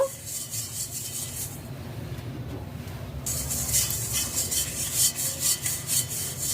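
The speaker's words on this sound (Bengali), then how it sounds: "গামলির ভিতরে সাদা তেল দিয়ে নেব" A greased steamer bowl is rubbed inside with white oil before momos go in, giving a steady scraping friction that drops away briefly mid-clip and then returns stronger and more rhythmic.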